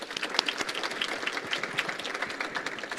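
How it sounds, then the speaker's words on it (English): Summit attendees applaud panelists at a hog farming event, a crowd's rapid overlapping claps forming a lively, continuous patter that stays even and moderately close throughout. "Let's give them a round of applause"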